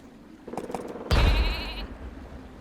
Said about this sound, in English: Oh, the sheep.